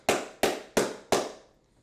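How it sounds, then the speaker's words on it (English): Four sharp, evenly spaced hand claps ring out close and loud, each with a short echoing tail, in a slow deliberate rhythm. "Gotta give Flight a round of applause for this video."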